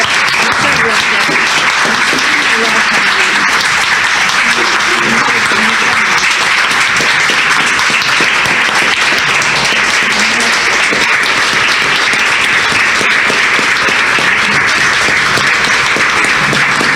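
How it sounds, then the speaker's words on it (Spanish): A large audience claps loudly and steadily at a book presentation of a Jalisco monologue booklet, a dense unbroken wall of applause lasting the whole stretch with no voices over it. "De veras, le reconocemos todos con este fuerte aplauso que le damos."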